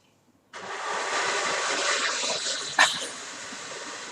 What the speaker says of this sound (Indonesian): Bunyi blender.